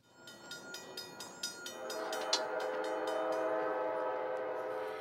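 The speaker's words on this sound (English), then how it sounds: "Freight trains with the Canadian Pacific Railroad will soon be picking up speed as they pass through several local cities." A Canadian Pacific freight train rolls past with a steady rumble, its horn sounding a series of short rhythmic blasts at the start, then one long sustained tone as the cars keep passing.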